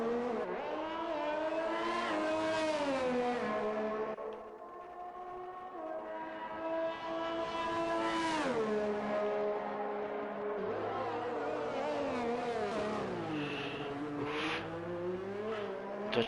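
Race car engines in the F1 2021 video game at the Austrian Grand Prix, rising and falling whines as cars accelerate and shift gears, several sweeping passes with tonal harmonics, fairly close and without talk.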